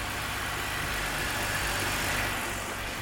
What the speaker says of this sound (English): It's idling even better than it was before.